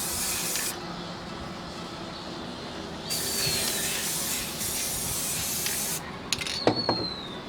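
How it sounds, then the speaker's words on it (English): An aerosol can sprays waterproof sealant onto product labels in several long hissing bursts separated by brief pauses, close and fairly loud, with a few small clicks and knocks between sprays. "this one could actually use a little bit more spray around the edges"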